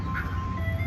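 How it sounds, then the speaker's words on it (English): An ice cream truck plays a faint, thin jingle somewhere outside, carried under a steady low rumble of passing road traffic, with no one talking during the moment. "Ice cream truck."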